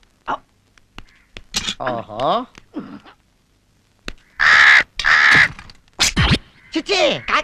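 A crow caws during a Telugu movie action scene, giving a few loud, harsh calls in short bursts with gaps between them, mixed with other brief vocal sounds.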